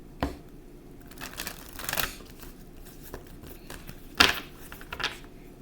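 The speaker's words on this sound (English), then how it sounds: "I'm going to shuffle the cards" Tarot cards are shuffled by hand in short bursts, quick riffling flutters separated by pauses, close and fairly quiet in a still room.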